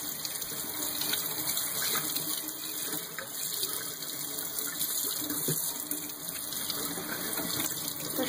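Steady tap water runs continuously at close range while a cleaned rainbow trout is rinsed at a sink, a constant hiss and splash with no voices.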